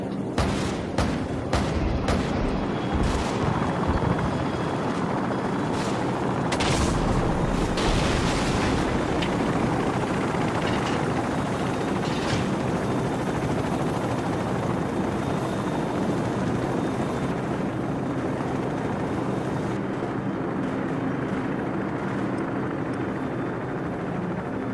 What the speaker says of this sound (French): À l'équipage, nos hélicoptères entrent dans la zone.